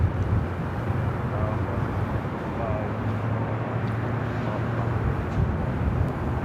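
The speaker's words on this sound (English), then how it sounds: "777-300ER coming in from Tokyo Narita, touching down here on the north side of LAX and runway 24 right" A Boeing 777-300ER arriving from Tokyo Narita touches down on runway 24 right at LAX, a steady broad roar of jet engines and rushing air holding at a fairly constant level throughout.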